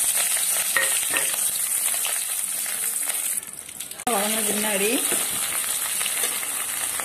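Sliced big onion, green chillies, dried red chillies and curry leaves frying in hot oil in a kadai for tempering. A loud, steady sizzle fills the clip and dips briefly near the middle, with a few spoken words over it.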